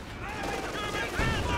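Infantry small-arms fire crackles in a Company of Heroes 2 battle as a squad shoots from a church, with rapid bursts layered under a commentator's talk.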